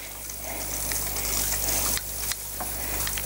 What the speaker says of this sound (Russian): сено обязательно прольем из леечки водой.